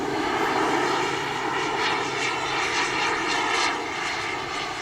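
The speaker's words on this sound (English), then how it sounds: "I'm bumping the power up." Flyfly Hobbies Viper 2.2 RC model jet with a turbine engine in flight, a loud sustained whining roar that swells slightly as power rises, steady and close.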